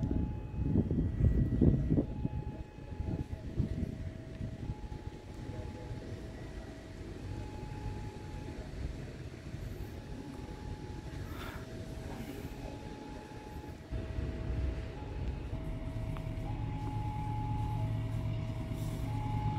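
An Argo Wilis passenger train rumbles past Lempuyangan station with a heavy, rolling roar and clanking, while steady tonal hums and whistles sound over the noise throughout.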